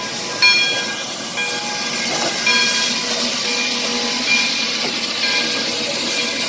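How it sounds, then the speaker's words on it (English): Steam locomotive 3415 runs in Abilene, Kansas, at its 100th birthday event, giving a steady, loud hiss of steam and rolling rumble with faint whistle-like tones and soft clanks, close by and without speech. "this is Steam Engine 3415."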